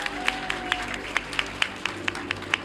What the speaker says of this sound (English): So give all of yourselves a fucking round of applause